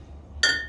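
Glasses meet in a single bright clink during a toast after a Kamado Joe Big Joe pork shoulder cook, sharp and close after a near-silent moment, its ring fading quickly.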